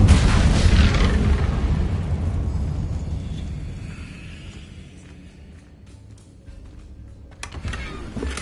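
Incendio fire spell cast in Hogwarts Legacy, opening with a loud whooshing, roaring burst that slowly fades over several seconds, followed by a quieter rumble and a small thump near the end.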